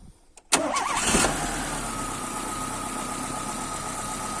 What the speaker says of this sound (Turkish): Gaz vermeden sadece marşa bas.